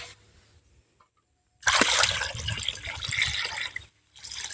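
Water is drawn from a small well in a bucket, with quiet dripping at first, then a loud splashing pour and gurgle, a pause and another splash, close by and with no talk.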